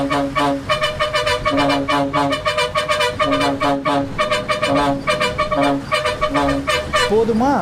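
Bus horn in GTA 5 blaring repeatedly in loud, rhythmic honks, a pulsing tonal blast that keeps sounding for several seconds, ending with a rising wobble, with voices talking underneath.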